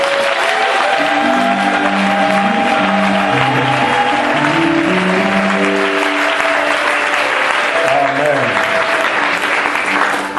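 A church congregation applauds the Lord with loud, sustained clapping throughout, while keyboard music plays underneath and voices murmur faintly.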